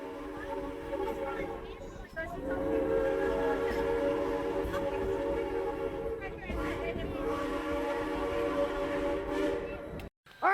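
Holiday train on the Yosemite Sugar Pine Railroad rumbles steadily along with a drawn-out whistle blowing over it, loud and close, with a brief break near the end.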